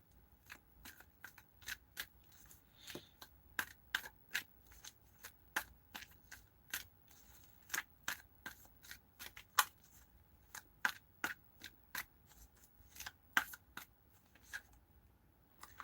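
Playing cards shuffled repeatedly in a steady run of crisp riffling snaps, close and moderately loud, with no talking over them.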